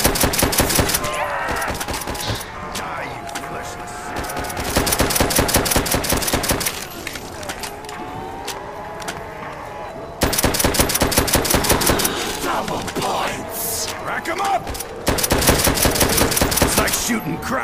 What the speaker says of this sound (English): Shooting krauts in a barrel.